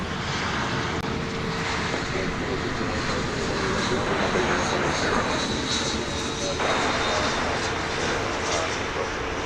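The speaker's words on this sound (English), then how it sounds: "Looks to be a United Airbus A319." A United Airbus A319 airliner at DFW Airport produces a broad, steady jet engine roar, moderately distant and continuous, under faint background ambience.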